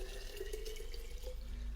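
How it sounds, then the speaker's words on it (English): Cold tap water pours into a cold brew tea pitcher, a steady close trickle and splash that runs without pause and with no voices. "And then you just put the cold water in."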